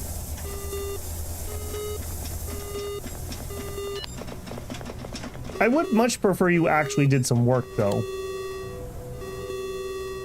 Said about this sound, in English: That's so many alarms.